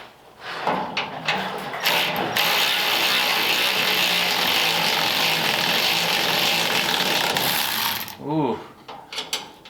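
A ratchet strap is cranked tight to hold down a 1937 LaSalle transmission in a roadster, a long, loud, steady run of mechanical ratcheting clicks close by, easing off into a few scattered clicks and knocks at the end.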